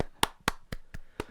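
Six sharp hand claps at a steady, fairly quick tempo, close and crisp in a quiet room, each clap short and evenly spaced.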